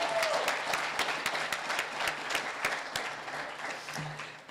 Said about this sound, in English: So can we just have a big round of applause for Yahe?